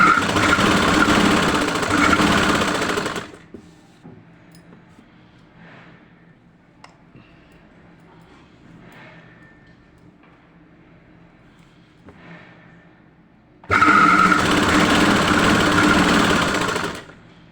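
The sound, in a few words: sewing machine stitching a salwar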